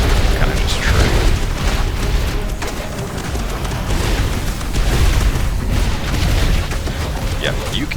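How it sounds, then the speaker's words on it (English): A loud, booming explosion from a character ability in the video game Voidling Bound, a dense blast of sustained rumbling roar that fills the whole stretch with no clear pause. "It kind of like preps, and then the explosion comes in."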